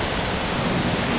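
A waterfall pours into a small creek at a fossil-hunting site in northern British Columbia, making a steady, loud, broadband roar that runs evenly throughout with no voices.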